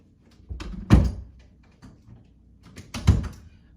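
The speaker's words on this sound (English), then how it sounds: "I had to close my doors because I don't like when my doors are open when I'm reading" Doors in a home are closed one after another, giving two solid thuds about two seconds apart, each preceded by a short rustle of movement, close by with no talking.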